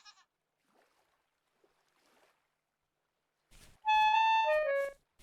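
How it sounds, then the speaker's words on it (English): Goats in the survival game Vintage Story, a male kid and an adult female trapped underground, give a short burst of tonal bleating near the end after a long near-silent stretch, fairly close and alone. "a male baby goat and a female adult trapped down here"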